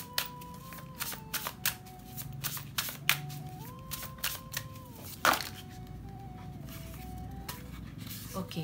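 Tarot cards riffle and snap as they are shuffled and drawn, a string of quick papery bursts in close succession, while a voice speaks quietly underneath.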